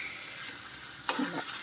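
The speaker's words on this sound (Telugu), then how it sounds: "ఒకసారి కలుపుకుందామండి, తిరగేద్దాము, అడుగు పట్టేస్తుంది లేకపోతే" A brief stir of cabbage and egg curry frying in a pan: a soft background sizzle, then a sudden scrape and clatter of a spatula turning the food near the end.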